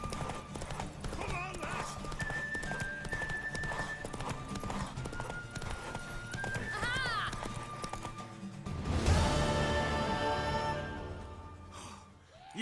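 Hooves of a galloping horse clatter in a quick, steady rhythm during a race in The Witcher 3, with game music, a shouted rider's voice and a brief whinny over the hoofbeats.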